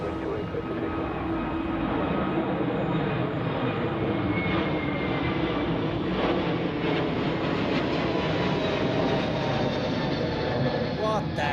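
An airliner takes off at Zurich Airport with a loud, continuous engine roar and a thin whine running through it, while voices talk over it.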